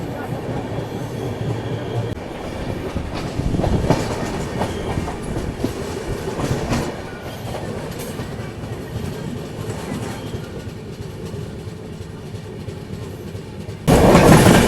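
The Patna Howrah Janshatabdi superfast special runs along the track, its carriage rattling and clattering with rhythmic wheel clicks heard from inside, swelling louder around the middle and surging sharply at the very end.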